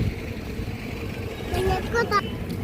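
A bus pulls up amid roadway traffic, its engine rumbling under a steady wash of street noise, with a brief tonal squeal or horn-like sound near the end and faint crowd babble around it.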